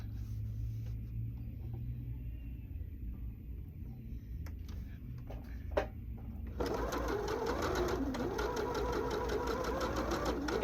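A sewing machine stitches quilt block pieces. Quiet fabric handling and a low hum come first, then the motor kicks in partway through with a loud, steady, rapid needle rhythm that runs to the end.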